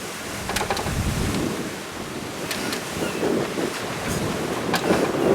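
Sea waves of about two metres wash and surge around a sailing catamaran, with a continuous roar of water and heavy wind buffeting the microphone and no voices.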